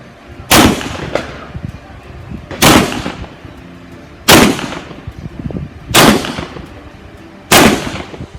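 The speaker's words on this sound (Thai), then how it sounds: "โอเค พร้อมแล้ว เริ่มยิง" Five loud, sharp pistol shots from a Beretta 92 FS fired one-handed at a range, evenly spaced about one and a half to two seconds apart, each a crisp crack with a short echoing tail.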